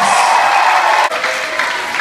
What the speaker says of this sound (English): Can I give a nice round of applause for our winners of the Qwanoes World Cup